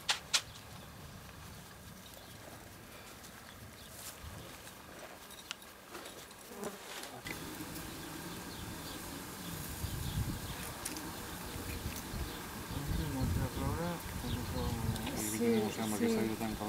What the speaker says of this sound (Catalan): les mosques estan ja començant a atacar